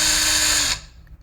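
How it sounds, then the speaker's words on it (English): Power drill boring out the center of a stripped hex screw, a loud steady whine that cuts off abruptly near the end and leaves a faint quiet tail. "All I'm doing is drilling out the center of it."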